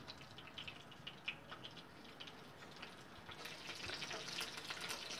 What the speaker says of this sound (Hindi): बाकी कबाब भी फ्राई कर लेंगे।